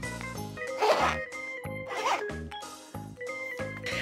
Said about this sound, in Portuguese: No meu estojo tem um zíper.